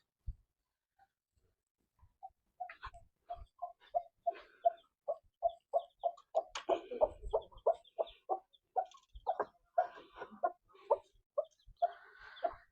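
Chickens cluck at feeding time alongside young chicks, a series of close, rhythmic clucks that begins sparsely and then quickens into a steady run of repeated calls over a quiet background.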